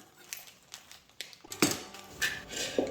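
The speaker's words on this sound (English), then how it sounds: "let's get into cutting those veggies without a chopping board" A knife slices vegetables without a chopping board, leaving a string of soft clicks and scrapes that build toward sharper metallic taps and knocks, close and clear in a quiet room.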